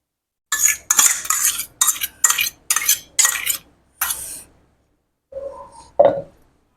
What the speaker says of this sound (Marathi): आता आपण हे दही घेतलेलं आहे, हे दही सगळं टाकून घेऊ याच्यात